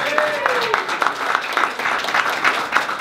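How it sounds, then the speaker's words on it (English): Audience applause at a business table-talk event, a dense wash of clapping that holds steady for a few seconds, fairly close and lively, with a voice speaking over it at the start. "round of applause."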